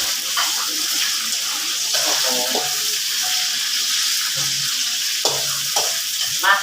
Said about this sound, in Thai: ใส่กระเทียมลงไปเจียวอีกรอบพี่น้องให้กระเทียมกรอบ